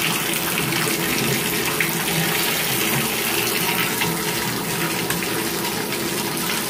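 Hot water runs steadily from a Kohler shower valve under repair, a continuous broadband rush of spray that stays close and loud throughout, with no talking.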